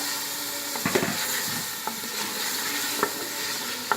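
Mixed vegetables for a Pakistani-style sabzi sizzle in a pot with a steady frying hiss, broken by a few sharp clicks of a spoon stirring against the metal.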